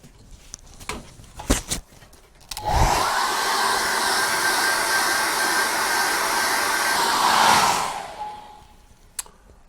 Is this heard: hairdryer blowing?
yes